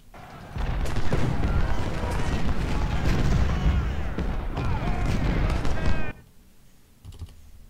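Dense volleys of musket and rifle fire from Civil War troops in the strategy game Ultimate General: Civil War, a continuous crackling barrage for several seconds that cuts off abruptly, followed by a few faint distant shots.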